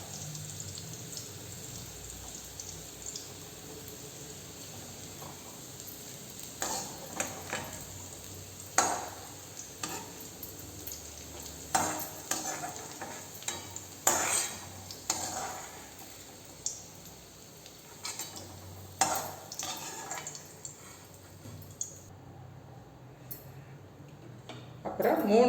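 Okra (ladies' finger) stirred and frying in a pan, a steady sizzle with scattered spatula scrapes and clicks, fairly close, with no talking.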